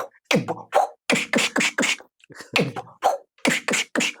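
A performer's voice imitates fight sound effects: a quick, loud string of punchy, percussive vocal bursts, close to the microphone, with short gaps between the hits.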